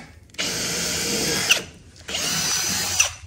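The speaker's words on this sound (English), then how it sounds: "It's got to drill through." A power drill bores through the aluminum mount of a poling platform on a small boat, in two steady whining bursts of about a second each with short pauses between them.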